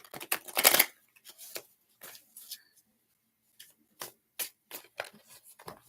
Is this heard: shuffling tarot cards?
yes